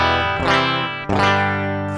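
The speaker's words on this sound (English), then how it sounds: "completely dry. Just the sound of the guitar." Two strummed electric guitar chords through an Orange Rockerverb 100 MkIII tone on a Line 6 Helix ring out clean and dry, each decaying naturally with no echo, reverb or added effects.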